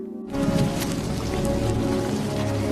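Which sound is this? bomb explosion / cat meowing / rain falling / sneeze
rain falling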